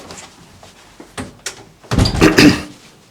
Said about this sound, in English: I'll close the door behind.